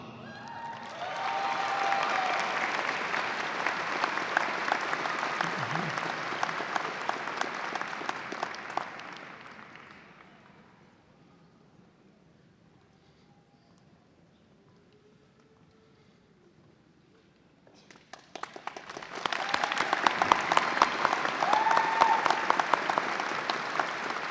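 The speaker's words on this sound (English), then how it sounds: "please give another round of applause for the undergraduate award recipients" Audience applause at a 2019 psychology department commencement ceremony, honoring undergraduate award recipients: a loud, sustained burst of clapping fades out, a quiet gap follows, then a second strong round of applause rises and continues.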